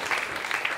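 Audience applause for a storyteller at a Moth StorySLAM, a brief, steady wash of clapping filling the room.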